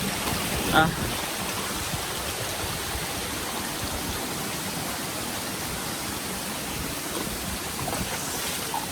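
A Hawaiian waterfall roars as a steady, broad wash of rushing water that fills the whole stretch with even, close noise, and a brief voice or knock sounds near the start.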